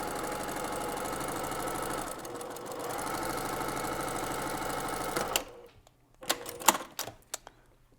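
A home sewing machine stitches quilt pieces together in a steady, fast mechanical whir for about five seconds, then stops, followed by a few sharp clicks and taps of handling.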